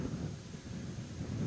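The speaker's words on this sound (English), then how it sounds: "The wind's hitting us at about 50 miles an hour right now, and gusting." Strong gusting wind of about 50 miles an hour buffeting the microphone outdoors on a farm property, a continuous low rumbling roar with surging gusts and no voices.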